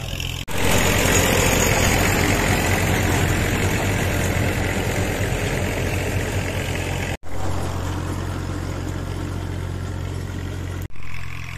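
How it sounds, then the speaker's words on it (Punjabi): A tractor engine runs loud and close while digging potatoes in a village field, a steady droning rumble that holds almost unbroken, with two brief dropouts. "ਟਰੈਕਟਰ ਆ ਰਿਹਾ ਹੈ ਪੁੱਟਦਾ ਪੁੱਟਦਾ"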